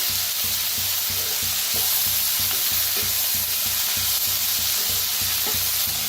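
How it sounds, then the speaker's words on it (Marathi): Roasted radish pods mixed in a hot pan, a constant frying sizzle under rhythmic spatula scrapes, close and loud with no talk. "आता ह्याच्यात टाका शेंगा आपण भाजून घेतल्या होत्या मुळ्याच्या शेंगा. मिक्स करूया."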